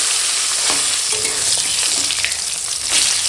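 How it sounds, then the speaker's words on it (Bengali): A rohu fish head rubbed with salt and turmeric sizzles and crackles loudly in hot oil, a dense continuous fry with occasional sharper pops, close by and without talk. "তেল গরম হয়ে গেছে এখন ভেজে নেবো"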